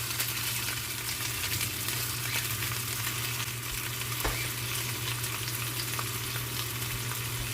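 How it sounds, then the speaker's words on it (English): Yellow snapper fish goes into a hot pot on a stovetop and sizzles, a steady close crackling hiss over a low hum that carries on evenly with no talk. "Adding my fish to the pot there."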